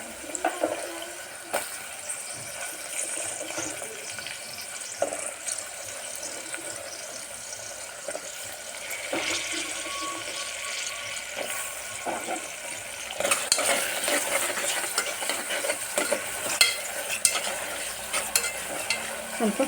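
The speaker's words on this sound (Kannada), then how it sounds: "ಇವಾಗ ಬೀನ್ಸನ್ನೆಲ್ಲ ಹಾಕ್ತಾಯಿದ್ದೀನಿ" Beans go into a hot pan for pulao and get stirred, a steady sizzle with scraping and stirring that grows louder partway through, with no talk.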